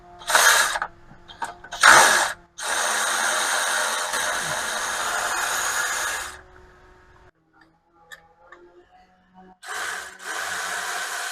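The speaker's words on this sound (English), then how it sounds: "I'm just going to back out these bolts now." A ratchet backs out bolts on a Dodge Cummins first-generation engine mount, with several short clicking bursts, a long steady run of ratcheting, then a quiet gap and a final burst, loud and close with no talking.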